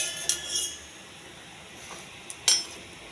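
Utensils clink against a plate as fried cashews are transferred, a few sharp metallic taps near the start and another pair later, separated by quiet kitchen background.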